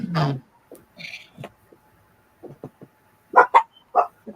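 Several short, high yips and barks from small puppies, scattered in quick bursts with quiet gaps between them.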